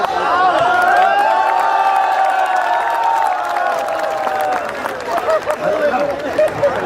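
Live crowd at a Hindi comic poetry gathering breaking into cheering and whoops with clapping mixed in, a loud dense roar of voices that thins out toward the end into scattered claps and chatter.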